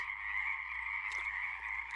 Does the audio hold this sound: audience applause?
no